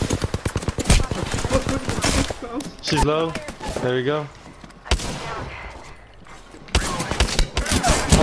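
Apex Legends gunfire crackles in rapid bursts of automatic shots at the start and end, loud and close, with players talking over the middle stretch.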